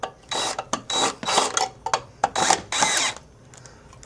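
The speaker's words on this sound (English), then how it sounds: "will screw number 3 go in? Wow, it did." A power drill drives screws to mount a home EV charger, whirring in several short, loud bursts separated by brief pauses.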